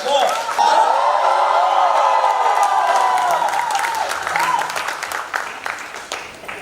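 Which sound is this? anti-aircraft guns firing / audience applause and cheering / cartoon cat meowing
audience applause and cheering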